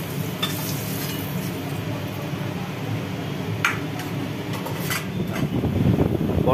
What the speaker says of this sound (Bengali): পটলগুলোকে এখন তুলে নেওয়া হচ্ছে।